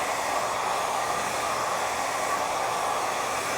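Hair dryer blowing at full speed on high heat during a salon blow-dry with a large round brush, a steady, even airy whoosh running close and unbroken without talk.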